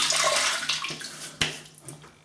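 Water splashing from a running tap at a bathroom sink as a face is wetted before a wet shave, a close rushing spray that breaks into a few scooping splashes and drips before trailing off.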